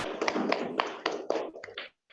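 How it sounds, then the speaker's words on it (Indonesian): Classroom applause for a student, a short burst of hand claps, fairly close and uneven, lasting under two seconds before trailing off into quiet. "kita berikan aplaus untuk Ananda Nirmala Sari"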